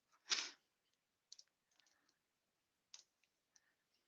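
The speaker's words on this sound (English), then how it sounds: "Sorry, Stacy, I'm typing" Keys on a computer keyboard tapped in a few sparse, faint clicks with long pauses between, one sharper louder press near the start, otherwise quiet.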